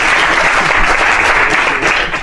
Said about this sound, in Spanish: Le damos un aplauso para él. Venga, venga, fuerte.